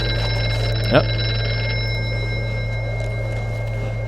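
A telephone bell rings steadily in the horror game Here They Lie, a continuous electronic-sounding ring held throughout with a faint low hum beneath, and a brief word spoken once near the start.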